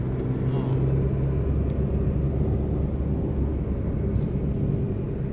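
A car drives along a winding mountain ghat road in South India between Ooty and Munnar. The engine and road noise form a loud, steady rumble close by that carries on without a break.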